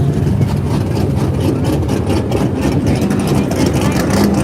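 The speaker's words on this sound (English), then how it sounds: "We've got an old GT500 Super Snake, which those are loud and fast as well" An old GT500 Super Snake's engine rumbles loud and steady at a Coffee & Cars meet at COTA, a dense low roar that fills the whole stretch with crowd chatter mixed in.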